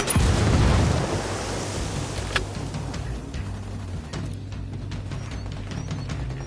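In Ghost Recon Wildlands a frag grenade goes off with a heavy, rumbling blast at the start, then a long fading roar with scattered faint cracks afterward.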